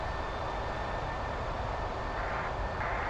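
Steady roar of MD-11F cargo jet engines in Microsoft Flight Simulator, a heavily loaded freighter on a rainy day at Manchester, droning continuously and fairly loud throughout with no talk.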